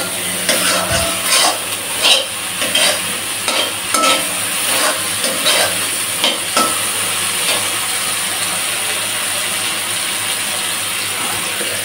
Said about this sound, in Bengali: মশলাটা ভালো করে কষিয়ে কাঁচা ভাব বা গন্ধটা দূর করতে হবে কষিয়ে কষিয়ে